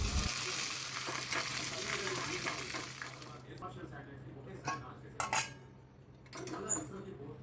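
Mustard seeds, cumin, chana dal, urad dal, chopped dried red chili and curry leaves sizzle in a little oil for a few seconds, then the quiet frying gives way to a few sharp utensil clinks against a pan.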